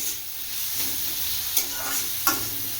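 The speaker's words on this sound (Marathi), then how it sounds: "त्याच्यात मी वाटाणे भाजून घेतले अगोदर, तेल टाकून लसूण खोबरं टाकून हे परतते म्हणजे हलवते." Roasted peas with garlic and coconut fry in oil as a spoon stirs them, a continuous soft sizzle with a few sharp scraping clacks of the utensil against the pan.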